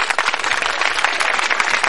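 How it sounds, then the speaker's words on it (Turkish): Crowd applause for a television news crew at a large gathering in Hivde, a steady, dense wash of many hands clapping, loud and continuous throughout. "Onlara bir alkış şöyle"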